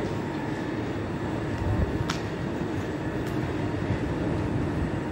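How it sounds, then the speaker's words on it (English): A long train rumbles past steadily at close range at Uppsala Central Station, Sweden, a loud continuous roll with a couple of brief high metallic squeals. "Very long train."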